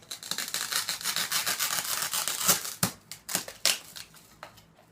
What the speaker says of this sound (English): where it made the little indentions, I'm just cutting it off